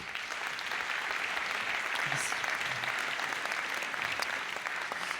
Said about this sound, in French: On les applaudit très fort tous les 5.